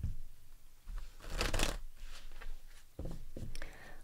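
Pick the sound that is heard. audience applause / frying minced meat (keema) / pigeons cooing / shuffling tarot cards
shuffling tarot cards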